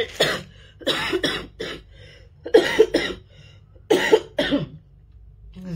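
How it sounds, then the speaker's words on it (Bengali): Someone coughs hard and close in repeated bursts, several quick coughs grouped into short fits with pauses between them. "ওষুধ চলছে তাও কাশিটা কমছে না"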